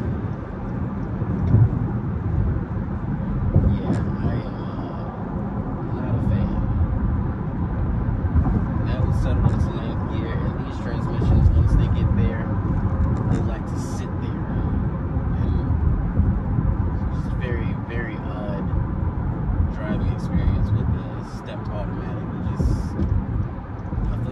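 An Acura MDX engine holds a steady, droning rumble at about 3,000 RPM without shifting, heard from inside the car under ongoing talk.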